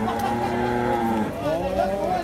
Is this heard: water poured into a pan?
no